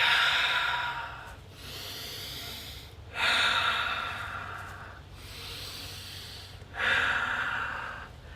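Slow, deep breaths drawn during a shoulder resistance workout for yoga practitioners, three long airy inhale-exhale cycles, close and steady, with no talking.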